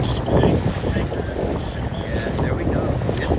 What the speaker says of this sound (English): It's windy over here